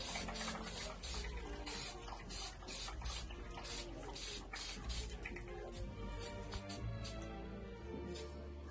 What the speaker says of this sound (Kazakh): Енді келесі кезекте садағымызды осындай қарапайым баллончикпен қара түске бояймыз.